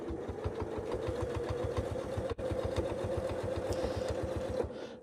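A sewing machine runs continuously during free-motion quilting of a feather filler design, its needle punching in a fast, even mechanical rhythm with a brief pause midway, close and steady without talk.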